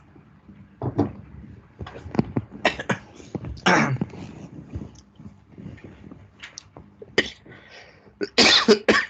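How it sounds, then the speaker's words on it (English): Several coughs, close and fairly loud, scattered irregularly with quiet breathing and small movements between them. "I'm sorry, I got cough."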